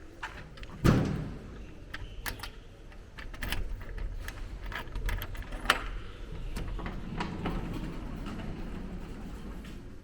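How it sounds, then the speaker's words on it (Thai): Sliding door of an 8-metre container sleeping cabin stored inside a warehouse being unlocked and opened, heard as a sharp knock, then scattered clicks, rattles and a low rumble of the panel moving, close and moderately loud. "เดี๋ยวจะเปิดประตูให้ดูภายในเนาะ เป็นกระจกบานใหญ่บานหนึ่งนะครับ แล้วก็เป็นประตูบานเลื่อนนะครับ"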